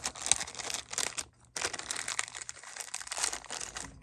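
A small plastic bag crinkles and rustles as it is stuffed in as cushioning, in two bursts of close, crisp crackling with a brief pause between them.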